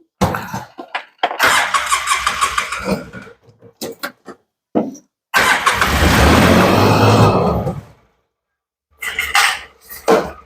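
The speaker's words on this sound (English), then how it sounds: "I'm going to go ahead and start the machine up" A Polaris Ranger 6x6 utility vehicle engine cranks in short bursts, then catches and runs loudly for a couple of seconds before cutting out. Clanking and rattling come from nearby, and more cranking follows after a pause.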